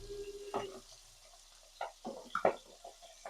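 Hot oil in a pan while cooking a tangra fish curry, faint crackling sizzle with a few sharp pops and splatters at irregular moments, quiet and close with no talk.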